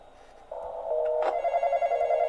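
In the Roblox horror game The Intruder, a telephone starts ringing with a steady electronic tone that holds on after a brief sharp click, loud and close, with no voices over it.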